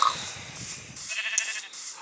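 A few short bleats from livestock in Minecraft, fairly close, over a steady airy ambient hum.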